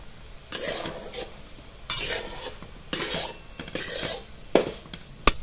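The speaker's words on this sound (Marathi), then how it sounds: "हलवून द्यायची भाजी आणि चेक करायचं आतपर्यंत आपलं सोयाबीन शिजलंय की नाही शिजलं" Soybean curry being stirred in a pan, with a series of scraping and clinking spoon strokes in irregular bursts over a light sizzle, close by and with no voices.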